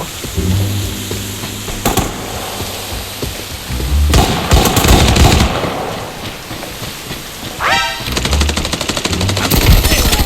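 Rapid automatic gunfire bursts in the shooter game Arena Breakout, loud and close, with repeated volleys separated by brief pauses and a sharper rattling burst near the end.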